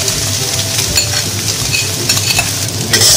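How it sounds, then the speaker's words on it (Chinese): Char siu fried rice stir-fried hard in a wok over high heat: a loud, steady sizzle with constant scraping and tossing of the spatula, close up and with no voices. "把刚才炒的饭炒进去。"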